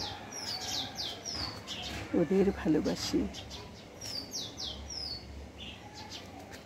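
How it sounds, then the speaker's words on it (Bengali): Small birds near their nest give repeated high chirps and short call notes in quick bursts, while a person speaks briefly over them in the middle. "ভয়তে ওরা চুপসে গিয়ে করছে ডাকাডাকি"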